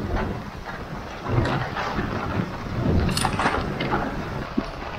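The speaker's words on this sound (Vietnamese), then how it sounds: "Bão táo luôn rồi, không còn mưa nữa." A storm with strong wind and rain on a fishing trip outing, a continuous roaring rush of gusts and rainfall with rumbling low swells, loud and steady, without talk.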